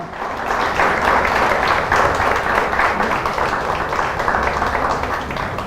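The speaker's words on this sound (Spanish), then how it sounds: "¿Por qué le damos aplauso al Señor por esa salvación?" A church congregation applauds in praise, a dense, steady wash of many hands clapping together that holds at full strength throughout with no speech over it.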